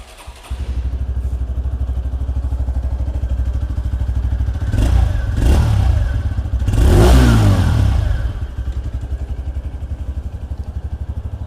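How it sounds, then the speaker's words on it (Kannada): A TVS Radeon motorcycle's silencer puts out a steady mid-pitched exhaust thrum at close range, swelling with two brief throttle blips before settling back to a constant idle beat. "ಸೈಲೆನ್ಸರ್ ನೋಟ್ ಒಂದು ಕೇಳ್ಕೊಂಡು ಬರೋಣ"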